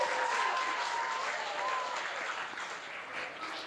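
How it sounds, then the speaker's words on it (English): An audience at a community cultural-sharing event in Happy Valley-Goose Bay claps steadily, a dense burst of applause that slowly tapers off toward the end. "let's give them a round of applause as well"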